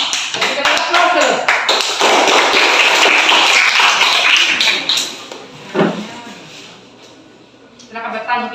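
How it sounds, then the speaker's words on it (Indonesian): Classroom audience applauding at a school group presentation, a dense burst of clapping that swells loudly for several seconds, then fades, with a voice speaking over the tail end. "Kita aplaus dulu."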